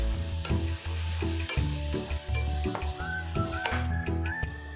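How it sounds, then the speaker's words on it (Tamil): Finely chopped tomatoes go into a kadai of frying onions, ginger and garlic for mutton nalli gravy, sizzling close up under a brisk rhythm of spatula scrapes and stirs, with no voices. "பொடியை நறுக்குன தக்காளியை போட்டுக்குவோம்."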